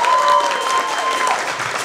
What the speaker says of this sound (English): let's give a round of applause for these people that are brave enough to come up here